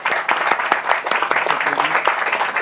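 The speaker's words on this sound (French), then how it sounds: "Voilà, on peut applaudir tout ce beau monde." Studio applause at the close of a local web TV morning show, a brisk, moderately loud patter of several people clapping with irregular sharp claps, faint voices underneath.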